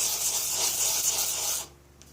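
A chisel bevel is pushed by hand across a sharpening stone in a steady, gritty rub lasting under two seconds, close and fairly soft, then the stroke stops abruptly into near silence.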